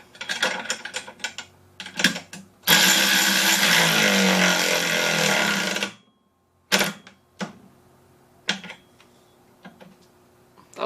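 Cheap Amazon ratchet tightening 9/16 bolts, with rapid clicking pawl bursts, a long sustained ratcheting run in the middle, then a few short separate clicks.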